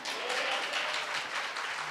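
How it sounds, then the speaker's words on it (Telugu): Church congregation clapping loudly throughout, a dense, steady wash of applause with no break, close and sustained. "ఒకసారి బిగ్గరగా చప్పట్లు కొడతారా?"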